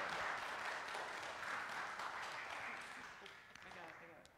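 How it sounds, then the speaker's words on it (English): Congregation applauding during a Sunday worship service, a soft, sustained wash of clapping that slowly fades toward the end, with a voice briefly heard near its close. "let's applaud him"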